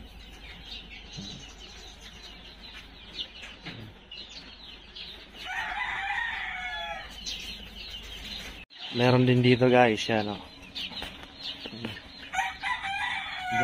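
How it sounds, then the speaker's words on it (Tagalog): Several gamefowl chickens of various breeds cluck and a rooster crows loudly midway, with someone talking briefly over the farmyard noise on a Philippine breeding farm. "Daming manok dito."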